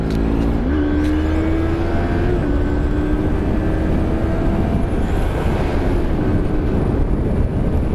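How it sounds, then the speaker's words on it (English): Yamaha MT-03 motorcycle, a 2016 model, cruising at top speed on a dual carriageway, with steady loud engine drone and a rising whine under constant heavy wind rush throughout, no talking. "you're probably experiencing a lot of wind noise"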